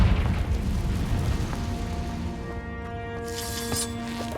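The Confringo fire-blast spell erupts in Hogwarts Legacy on PS5, a loud, rumbling explosion at the start that fades into a softer tonal hum and sparkling after-effects.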